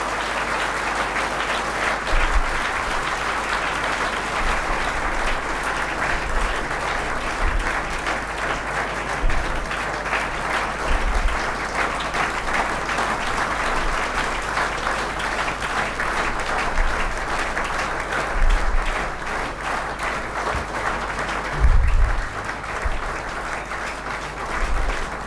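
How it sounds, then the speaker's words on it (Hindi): A large audience at a motivational seminar in Begusarai, Bihar, claps loudly and continuously for about 25 seconds, a dense steady roar of applause with occasional low thumps. "जोरदार ताली आप लोग बजाते रहिए।"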